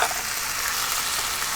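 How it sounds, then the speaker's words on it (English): Butter sizzles loudly on green beans in a hot pan, a dense, steady frying hiss that fills the whole moment without talk. "I'm going to take the cover off the green beans. We're going to hit that with a tablespoon of butter"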